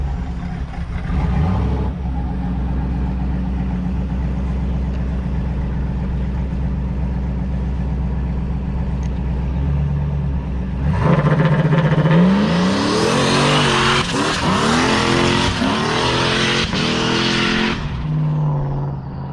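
A boosted LS-swapped Oldsmobile Cutlass revs up loudly close by, the engine note climbing sharply as it accelerates after a steady idle-like drone, ending in a roaring burst of power with no talking.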